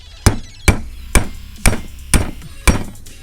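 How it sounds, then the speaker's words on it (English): Six sharp metallic hammer taps on a punch, knocking the piston from a Honda del Sol front brake caliper, strike at an even, unhurried pace, each ringing briefly before the next. "take a hammer,"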